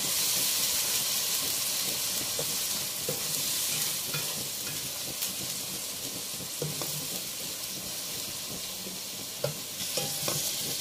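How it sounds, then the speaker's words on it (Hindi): Onions with garlic-ginger paste fry and sizzle steadily in a pan for a chicken biryani, with a constant hiss broken by occasional scraping stir strokes, close up and without talking. "और इसके साथ ही हमें प्याज को अच्छी तरह से भूनना है।"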